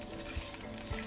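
Masala spices with garam masala, turmeric and salt sautéing in a pan, a steady soft sizzle and frying crackle with a couple of low thumps from the stirring spoon, no voices.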